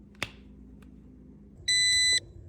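A Nokta AccuPoint metal-detecting pinpointer sounds its lost alarm: one sharp, high electronic beep about half a second long, loud and close in a quiet room, after a faint click earlier.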